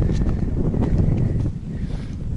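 Wind buffets and rumbles across the microphone in uneven gusts near the aqueduct in Tomar, Portugal, with a low, roaring texture throughout.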